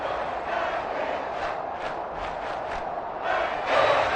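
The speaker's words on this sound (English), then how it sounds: "How about some applause for the defense there?" Football stadium crowd cheering for the defense after a fourth-down stop, a broad distant roar with rising surges and swells of noise from the stands.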